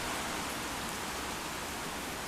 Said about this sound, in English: I'm just getting thrown off by the fucking torrential downpour I'm sitting through.